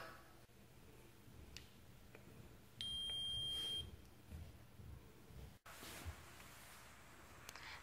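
A single sustained electronic alarm beep from a demonstration case simulating a transformer overcurrent fault sounds for about a second over a faint, noisy background hum, with nobody speaking.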